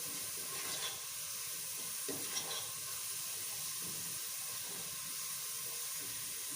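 Onions fry and slowly brown in a pan for a Sindhi chicken biryani, a soft continuous hiss and sizzle with faint crackles, steady and fairly quiet, without talk.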